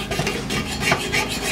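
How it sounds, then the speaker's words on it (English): A scraper strips paint off a lowrider bicycle frame in a rapid series of close, raspy scraping strokes. "it's just scraping off really easily for me"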